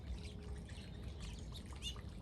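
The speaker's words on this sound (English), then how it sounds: "That's a goldfinch now." A goldfinch calls with short high chirps and twitters on a foggy autumn morning in a vegetable garden. The calls are faint against a low steady background murmur.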